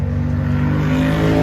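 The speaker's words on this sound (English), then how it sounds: "Oh, there goes a motor scooter." A motor scooter passes close by on a street, its engine a steady, loud buzzing drone that builds slightly as it goes by, with no talking over it.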